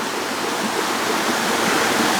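Steady, loud rushing water from a tiny waterfall in a canal near Mt. Fuji's Five Lakes in Japan, a continuous broadband splash with no pauses.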